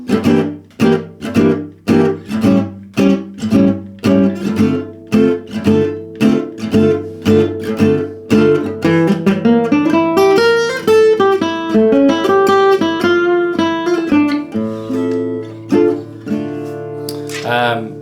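Plucked acoustic guitar notes run quickly up and down in a flowing gypsy jazz arpeggio lick resolving to D, clear and close, with no one talking over it.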